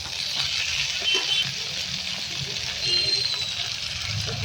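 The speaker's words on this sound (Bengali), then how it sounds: "বন্ধুরা হালকা হালকা ভাজা হয়ে গেছে হালকা সিদ্ধ হয়ে গেছে" Food fries lightly in a pan with a steady, close sizzle and soft crackle that holds at an even level throughout, with occasional faint stirring.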